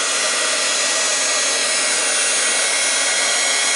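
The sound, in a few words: heat gun heating clay on journal cover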